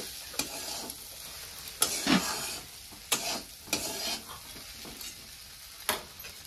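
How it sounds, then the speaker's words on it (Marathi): Pea chutney being stirred in a frying pan, giving a series of brief scraping strokes at irregular intervals over a faint, steady background hiss with no talk. "आता मी ह्याला हलवून घेते."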